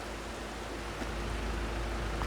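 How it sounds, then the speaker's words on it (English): Steady rain falling outside during a storm in a farming video game, a soft, even hiss with a low rumble, faint and continuous with no talk. "it's pretty much raining outside still. The storm is still raging."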